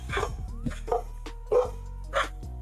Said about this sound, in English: Dogs are just barking in the living room.